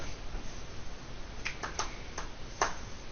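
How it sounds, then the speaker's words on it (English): A few sharp, isolated claps or snaps close by, quick dry cracks standing out against a steady background hiss, one slightly stronger hit near the end. "There's a clap from my brother"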